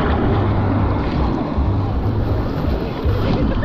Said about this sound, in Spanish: Miren, hay unas olas bien grandes.